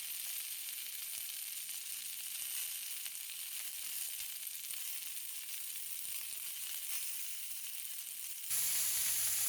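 Sausage rounds sizzle steadily in a hot pan while cooking for a sausage and shrimp gumbo, a continuous close frying hiss that holds through and brightens near the end, with no talk.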